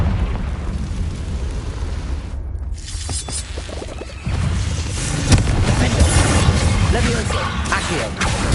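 A Confringo blasting spell explodes in the Hogwarts Legacy video game with a loud, rumbling burst that swells midway and keeps crackling and roaring to the end.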